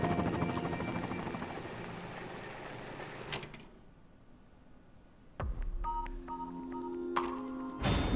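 Helicopter in Resident Evil 2 Remake, a loud rotor drone that cuts out abruptly, followed by electronic beeps and a low thump, then more game tones and clatter.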